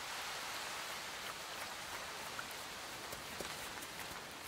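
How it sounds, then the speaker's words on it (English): Steady rain falls through an autumn forest, a dense even hiss of drops with a few brighter patters standing out, continuous and fairly close, with no voices. "bringing rainfall and even storms"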